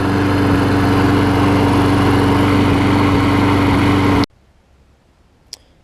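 Briggs and Stratton Quantum engine on a push mower running at a steady, loud, close drone for about four seconds, then cutting off abruptly, followed by near silence and one brief click.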